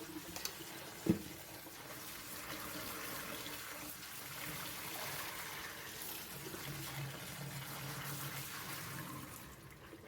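Soaked red beans being rinsed under running tap water in a kitchen, a soft steady flow with one sharp knock near the start, faint and without voices.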